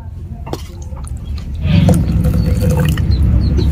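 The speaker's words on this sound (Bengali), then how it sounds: "এখন আমি মিক্সি জার ধুয়ে একটু উষ্ণ গরম জল দিয়ে দিচ্ছি।" Warm water pours into a mixer grinder jar after rice flour has been ground in it, a steady close gurgling stream that swells in volume partway through and runs on to the end.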